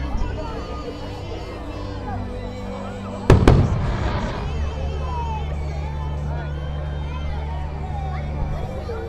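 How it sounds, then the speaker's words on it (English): A fireworks display bursts with a sharp double crack followed by rumbling echoes, heard amid a murmuring crowd and passing traffic at an evening street event. "I'm gonna let you guys watch the firework display here"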